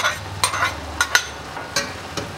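Squash pieces being stirred in a pan with carrot, giving a handful of sharp spoon scrapes and clacks over a soft low sizzle, close by.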